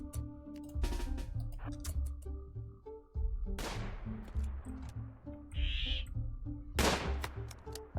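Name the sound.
gunfire from a colonist shooting in the RimWorld video game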